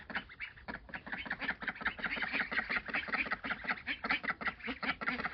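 A black duck or drake with a green sheen on its head quacks in rapid, repeated nasal calls, close and continuous with no talking.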